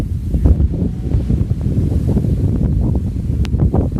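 Strong wind near a riverbank buffets the microphone in heavy, low rumbling gusts that roar continuously with no voices.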